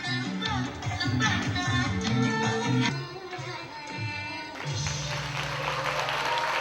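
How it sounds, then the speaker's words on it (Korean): Warm applause from an audience greets a troupe after an Indonesian traditional dance performance on stage, the clapping blended with lingering music for the first few seconds, then continuing more softly. "성공적인 무대를 장식한 공연팀에게 뜨거운 박수갈채가 쏟아진다"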